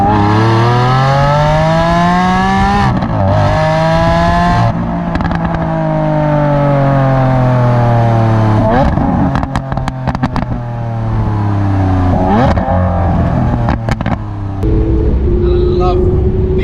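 Lamborghini Aventador S engine revving while driving on a winding road, loud rising and falling engine tones with sharp upshift breaks and crackles, while people talk over it in the cabin.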